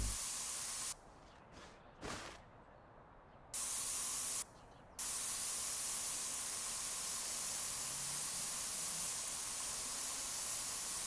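Steady loud hiss of a spray gun painting a vehicle panel in the game Spray Paint Simulator, broken by several short pauses before the spray runs on continuously.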